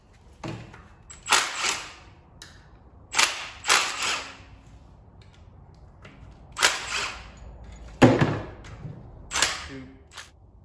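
Cap screws being worked loose from the oil pump on a 440 engine, heard as irregular sharp metallic clicks and ratcheting bursts spaced across the clip, close and distinct against a quiet shop background, with no talking.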